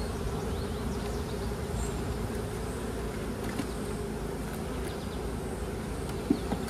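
Honey bees buzzing steadily around an open hive during an early-season inspection, a soft continuous drone with a few closer passes standing out, no voices.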